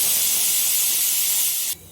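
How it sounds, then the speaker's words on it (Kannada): A pressure cooker holding chicken masala lets off a loud, steady rush of hissing steam that cuts off abruptly near the end, leaving a faint residual hiss. "ಕುಕ್ಕರ್ ಮುಚ್ಚಿ 1-2 ವಿಸಿಲ್ ಮುಚ್ಚಿದ್ದೀನಿ"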